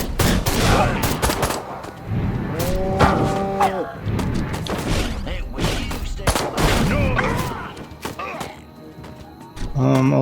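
Cows moo in the video game Destroy All Humans amid bursts of gunfire and chaotic game noise, several drawn-out lowing calls rising over rapid shots, with voices talking in between.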